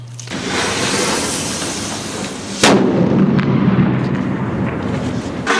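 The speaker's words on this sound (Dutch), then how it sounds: "Een kubusknaller, kubische kanonslak." A Widowmaker cube firework, a cake-style cannon box, fires two loud booming blasts, one near the start and a sharper one midway, each followed by a long rumbling, crackling tail.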